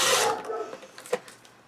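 A paper cutter slices through trim pieces of paper for a card-making project: one close, rasping slide of the blade that fades out, followed by a few faint handling taps.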